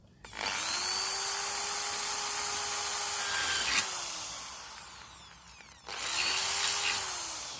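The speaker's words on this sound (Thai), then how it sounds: "ผมจะเจาะข้างล่างด้วยนะครับ เจาะข้างล่าง ให้มันออกตรงนี้ด้วย เจาะท่อไอเสียแต่งซิ่งสักหน่อยครับ" A power drill whines loudly as it bores into a metal exhaust pipe, spinning down after a few seconds, pausing, then starting again briefly.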